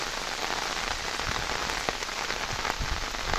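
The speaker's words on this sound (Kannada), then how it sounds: "ಒಳ್ಳೆ ಮಳೆ ಬರ್ತಾ ಇದೆ ಬೆಳಗಿಂದಲೇ." Heavy rain pours steadily in Bhagamandala during flooding at the Triveni Sangam, a dense, continuous hiss of drops striking surfaces with scattered louder splashes, no voices.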